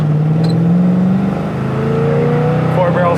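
A 1972 Chevrolet Monte Carlo V8 with a four-barrel carburetor revving loudly and close, the engine tone climbing steadily as it accelerates, with a voice talking over it.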